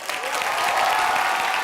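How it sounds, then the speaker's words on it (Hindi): A burst of dense studio audience applause at a TV comedy show, loud and steady throughout its short length. "से ज्यादा तालियां हो जाए रामू जी के लिए"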